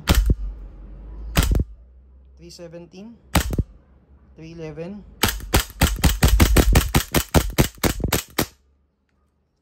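Sharp shots from an E&C G34 Gen3 gas blowback airsoft pistol crack close by: a few single shots, a voice speaking between them, then a rapid string of shots fired in quick succession.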